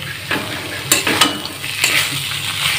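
Fried peanuts being stirred into samosa filling in a pan, with several sharp scrapes and metallic clinks from the spatula over a low sizzle, close and fairly loud, with no talking.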